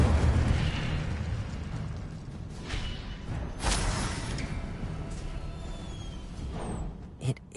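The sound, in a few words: Incendio fire spell cast in Hogwarts video game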